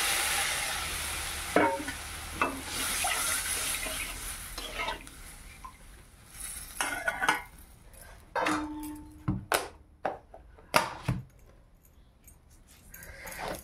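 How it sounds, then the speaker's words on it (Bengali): Fish curry spice paste cooks in a pan after water goes in, a bubbling sizzle that fades as stirring scrapes and clinks of the spoon against the pan come through. "মশলাটা ভালো করে ভাজা হয়ে গেছে, এবার জল দিয়ে দিলাম।"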